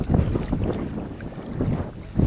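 A headwind rumbles and buffets the microphone on a solo multi-day kayak trip, with a low, gusty roar and water sloshing against the hull, close and continuous.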